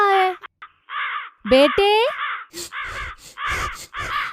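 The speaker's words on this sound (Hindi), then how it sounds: "सारे कौवे उसको भगा रहे हैं" Several cartoon crows caw in a rapid series of loud, harsh calls close by while driving someone off, with a brief spoken voice near the start.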